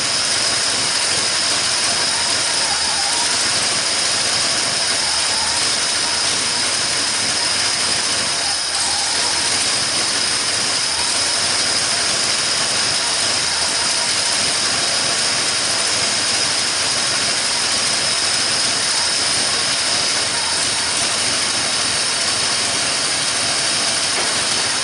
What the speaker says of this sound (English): Turn the idle up a little bit.